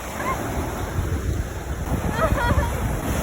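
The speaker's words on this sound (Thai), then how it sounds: "ทะเล" Sea surf washes onto a long sandy beach beside a seaside fuel station, a steady roar with breaking swells under heavy wind buffeting on the microphone.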